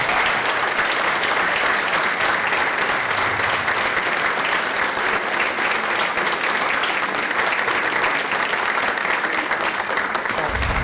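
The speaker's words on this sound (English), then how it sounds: "Can we have a round of applause for this fantastic panel?" Sustained, thick applause from an audience honoring a panel of Roosevelt grandchildren, a continuous loud wash of clapping hands that holds steady from start to finish.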